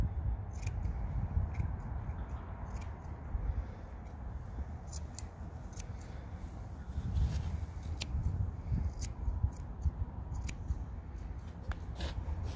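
Slip scissors make repeated small snipping cuts while trimming the foot fur of a Newfoundland dog, crisp close snips scattered over a steady low rumble of background noise, with no talking.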